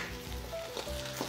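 Food frying in a pan while cooking Algerian home-style dishes, a soft, steady sizzle with faint crackle, heard close and alone at low volume.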